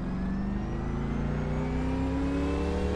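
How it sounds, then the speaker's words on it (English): A Chevrolet Impala accelerates hard in first gear, its engine note rising steadily with a loud, continuous rev that climbs in pitch throughout. "You could see just the power that it has in first gear"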